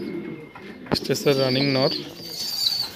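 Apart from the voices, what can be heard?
fancy pigeons cooing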